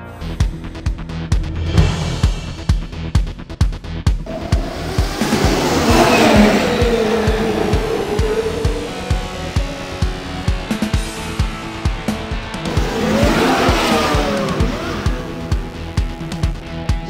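Cars speeding through a chase, their engines roaring steadily with two long swelling passes that include squealing tires, and faint rhythmic thumps running underneath.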